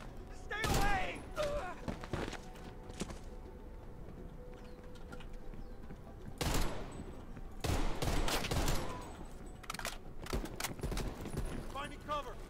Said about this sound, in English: Please, they're shooting at us.